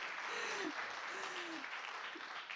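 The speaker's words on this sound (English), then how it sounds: "Now, yeah, give them a round of applause." A summit audience gives a soft, distant round of applause. The clapping is a low, steady patter for a couple of seconds, with a faint voice mixed in.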